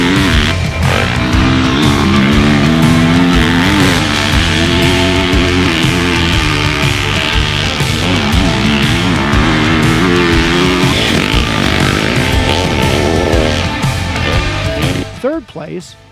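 A Kawasaki KX450 motocross dirt bike engine revs and climbs through gears while riding, the loud buzzy exhaust note rising and falling in repeated sweeps near the listener.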